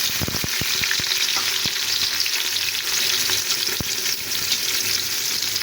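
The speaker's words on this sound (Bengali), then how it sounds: "পেঁয়াজটাকে এখন আমি লাল লাল করে ভেজে নেবো।" Onion frying in ghee with bay leaf, garam masala, cardamom and cloves, a dense, close, continuous sizzle punctuated by sharp pops and crackles early on.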